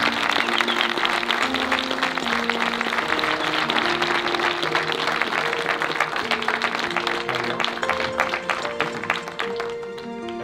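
A crowd in Trnava claps and cheers to welcome Bellator MMA champion Attila Végh, the dense applause running under loud music with sustained tones throughout, easing slightly at the end.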